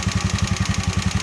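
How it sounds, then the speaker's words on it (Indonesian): Motorcycle engine idling rough from oil starvation, with scored pistons and worn piston rings, its low, lumpy firing pulses repeating steadily, close and loud with no one talking. "untuk yang lainnya itu berdampak ke suara mesin jadi kasar juga"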